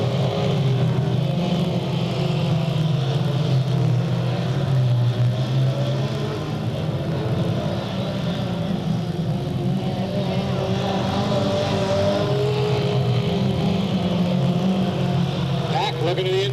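Race cars roar around the oval at Delta Speedway in 1998, a steady loud engine drone that swells and recedes as the pack passes, under continuous race commentary.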